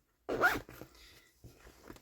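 A zipper on a handmade cross-stitch project bag with a clear vinyl front and a beaded flower-charm pull, one quick close, loud zip followed by softer fiddling and a couple of small rasps.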